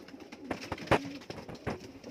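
Pigeons kept for sale coo and flutter nearby in a few short soft bursts, with faint knocks and shuffling around them and no talking.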